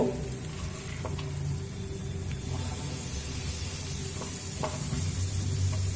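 Chopped kohlrabi is stirred into a spice mix fried in oil until the oil separates, giving a steady close sizzle and hiss with a few soft scraping clicks, no voices.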